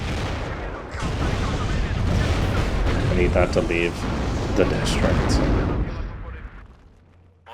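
Czech artillery pounding away in the WARNO strategy game, a dense, continuous barrage of booming shots and blasts that fills most of the clip before fading out at the end, with someone talking over it.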